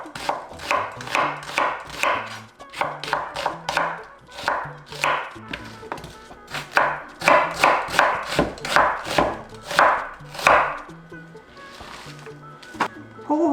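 Rapid, steady knife strokes slicing dried shiitake mushrooms into thin strips on a cutting board, a run of crisp close chops in quick rhythm with short pauses, while a person talks over the cutting.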